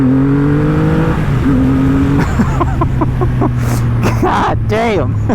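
Triumph Rocket 3 motorcycle engine pulling hard in first gear, a steady deep drone with rising revs and a whine climbing in pitch near the end, loud and close, with a voice talking over it.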